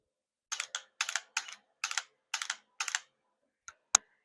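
A Mantis BlackBeardX rifle dry-fire trainer clicks in a quick close series of crisp double clicks, six in a row, then two sharper isolated clicks after a short pause.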